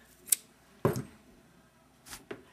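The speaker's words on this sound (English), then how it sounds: "Then cut the yarn" Scissors snip through crochet yarn in three or four sharp, brief clicks separated by quiet gaps, close and fairly soft, with no talking.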